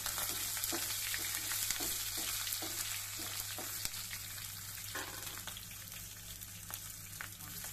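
Chopped garlic, about fifteen cloves, fries in hot oil for a Malabar spinach stir-fry, giving a loud, steady sizzle throughout with repeated light spoon taps and scrapes against the pan.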